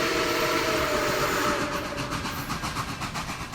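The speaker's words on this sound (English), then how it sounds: "It's just a train coming in." A train pulling into a station: a steady broadband rumble with rail clatter, and rhythmic clickety-clack beats emerging toward the end as the cars roll past close by.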